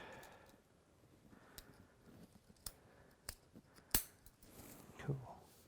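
Scissors snip through packaging while an Eryone ER20 3D printer is unboxed: a few sharp, scattered clicks and cuts, one louder snap near the end, against a quiet room.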